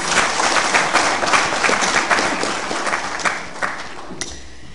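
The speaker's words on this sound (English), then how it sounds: "And I think she deserves a round of applause." Sustained applause from a large audience fills the hall at the African Union official opening ceremony in 2013, a dense steady clatter of many hands that eases off toward the end.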